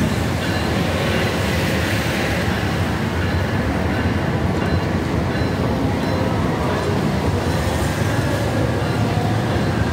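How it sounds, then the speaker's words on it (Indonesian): Gumarang passenger train at Pasar Senen station in Jakarta, bound for Surabaya Pasar Turi via Semarang, giving a steady, loud rumble of rolling railcars with dense rail noise throughout, no voices. "Kereta Gumarang menuju ke Surabaya,"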